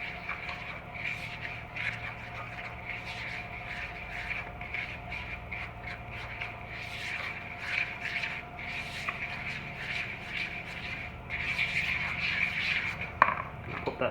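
Pink sea salt and cracked pepper are stirred together in a bowl, giving a soft continuous scraping and rubbing with faint clinks, quiet and close.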